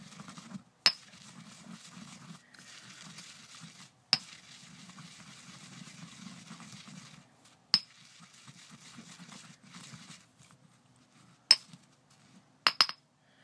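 Loose incense ingredients and oils being mixed together in a bowl, quiet scraping and stirring in several bursts, broken by a few sharp clinks of utensil against the container.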